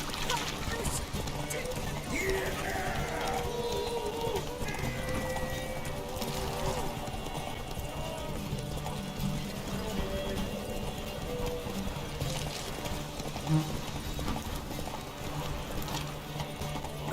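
Roach, Geralt's horse in The Witcher 3, galloping with a continuous rhythmic clip-clop of hooves under steady talking and game sound throughout.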